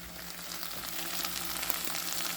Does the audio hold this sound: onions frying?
yes